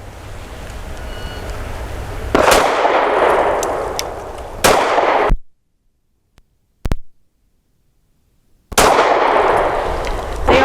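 A Mossberg MC2sc pistol fires 147 grain jacketed hollow point rounds outdoors, sharp loud reports spaced a couple of seconds apart over a steady background of wind and ambient noise.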